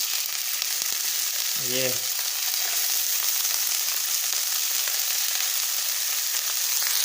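Fish pieces sizzle and fry steadily in a pan, an even crackling hiss throughout, with a brief low clank near the start; a single word is spoken.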